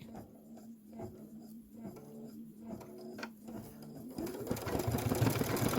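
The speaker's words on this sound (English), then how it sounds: "now it's stitching out the Bella" A Kimberbell embroidery design stitching out on a sewing machine, a close rapid mechanical chatter with steady needle beats and a motor hum that grows louder and busier toward the end.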